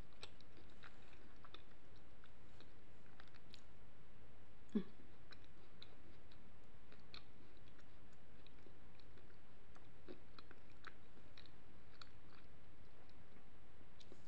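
Quiet, close chewing of Spanish turrón nougat: soft crunching bites and small clicks of the teeth repeat steadily over a faint background hiss, with no talking.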